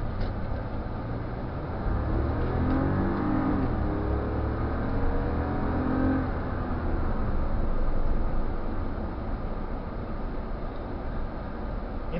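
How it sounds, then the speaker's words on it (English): A cheap, worn-out car's engine revs up steadily from low idle, a rising rumble with the pitch sweeping upward around the second to sixth seconds, loud and close throughout. "when you rev the car up like that"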